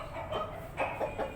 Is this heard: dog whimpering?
no